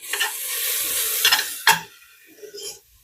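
Two tablespoons of butter hitting a hot pan of mushrooms, a loud, close burst of sizzling that flares, dies back with a scrape, then spits briefly again.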